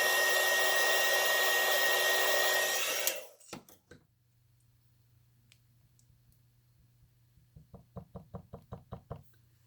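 A hair dryer blows steadily on alcohol ink on a palette for about three seconds and then cuts off, followed by a low hum and a quick run of sharp tapping knocks near the end.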